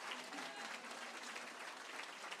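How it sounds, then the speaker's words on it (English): Dense, steady applause from an audience at an immigration town hall, continuous clapping with no pauses, heard at moderate distance. "Give him a round of applause."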